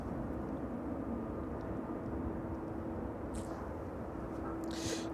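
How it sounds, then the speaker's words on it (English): A Jet2 airliner arriving from Tenerife taxis onto its stand at East Midlands Airport in the evening, giving a faint, steady engine rumble with a low hum, heard from a distance. "That's the Jet 2 service here from Tenerife there, just pulling onto stand"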